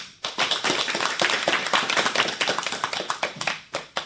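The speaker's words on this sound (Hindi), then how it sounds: "तो चलो फिर जोरदार तालियां हो जाए दोनों नन्ही कलाकारों के लिए" Audience applause for two young girl performers at a school programme, dense steady clapping from many hands, fairly loud and continuous from start to finish with no talk over it.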